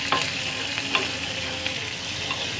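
Ingredients for a coconut dish fry in a pan with a spoonful of salt, making a constant bright crackling sizzle close by, broken by occasional small pops and stirring clicks.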